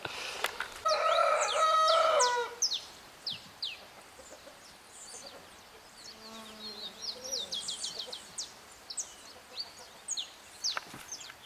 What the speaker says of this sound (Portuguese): O galo já tá botando tudo pra fora das barracas, das camas, hein?